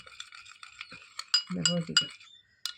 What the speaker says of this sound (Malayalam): കുറച്ച് നേരം നമ്മളിങ്ങനെ ഇളക്കി കൊടുക്കണം